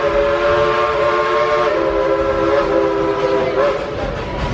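A steam train on the Rebel Railroad at a theme park sounds a long, steady whistle held for several seconds, loud and fairly near, fading slightly at the end.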